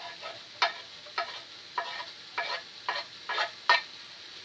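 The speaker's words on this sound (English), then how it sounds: "And now I'm going to add the onion and the mushrooms to that fish." Onion and mushrooms fry with fish in a pan, a soft steady sizzle broken by about eight sharper scraping stirs at regular intervals, close and fairly quiet with no talk.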